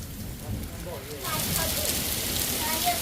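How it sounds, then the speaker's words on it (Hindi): Heavy rain pours steadily on a hillside home in the Pahad mountains during a sudden storm, a broad wash of noise that thickens and grows louder partway through, with faint voices beneath it. "अब तो ऐसी बारिश आ रही है।"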